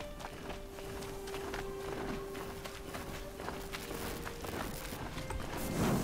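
A mechanical horse's hooves clop along in Horizon Zero Dawn, a steady run of faint footfalls over a low ambient hum, with no talking.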